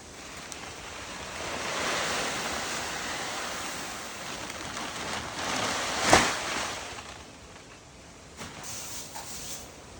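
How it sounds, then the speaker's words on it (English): Perlite is tipped into a carnivorous plant bog container, giving a faint, soft, continuous granular hiss that swells and fades, with one brief louder knock midway. "So we'll tip some perlite in."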